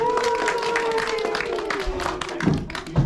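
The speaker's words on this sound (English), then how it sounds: "please give the board of mystery a big round of applause" Short burst of audience applause at a tourist show at the Mystery Spot in Santa Cruz, California, clapping fairly loud and close for about three seconds while a tone hums underneath and a voice speaks at the end.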